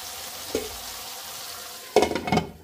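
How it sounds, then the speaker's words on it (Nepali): Kashmiri chili powder and spices fry in a pan for a drumstick curry, a soft sizzle beneath a light stir at first and then a louder burst of scraping and sizzling near the end. "मजाले चलाउनुपर्छ हामीले।"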